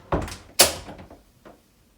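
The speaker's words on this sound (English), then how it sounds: "You're gonna close the door." A door bangs shut indoors with a heavy thud, preceded by a softer knock and followed by a couple of faint rattles as it settles, close and distinct.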